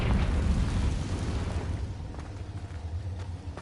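A Confringo spell blast in the Hogwarts Legacy video game: a loud, rumbling fiery burst that sustains and slowly fades over a few seconds, with no voices.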